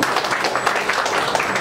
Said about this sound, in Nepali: एकचोटि जोरदार ताली पनि बजाइदिनु होला।